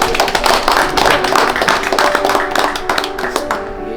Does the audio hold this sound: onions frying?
no